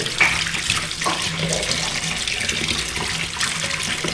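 Steady running tap water splashing continuously into a sink, a full hissing spray with small bursts of splashing as hot food is held under the stream to cool it.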